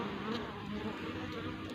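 Honey bees buzzing around wooden hive boxes with queen excluders, a dense, continuous droning hum from many bees close by, steady and unbroken without any talk.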